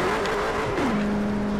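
A Koenigsegg in Forza Horizon drives with a loud, steady engine drone that drops in pitch partway through, then settles into a level tone, with tire noise and no voices.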